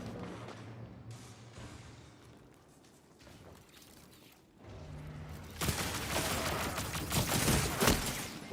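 Auto rifle gunfire in a shooter video game, bursts of rapid shots that start sparse and grow into a loud, dense stretch of sustained firing near the end.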